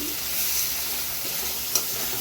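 Pointed gourd and potato curry sizzles in hot oil in a pan, a close, steady hiss and crackle with a sharp pop near the end, no voices.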